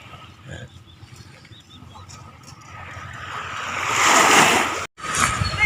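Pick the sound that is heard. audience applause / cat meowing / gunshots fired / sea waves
sea waves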